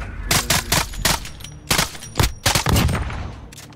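Bursts of automatic gunfire in a Call of Duty Modern Warfare multiplayer match, loud and close, with several sharp volleys and short pauses between them.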